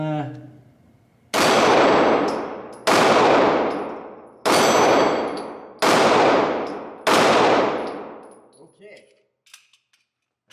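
Five loud pistol shots from a Beretta APX at a shooting range, each a sharp crack with a long ringing decay, spaced about a second and a half apart, then faint clatter.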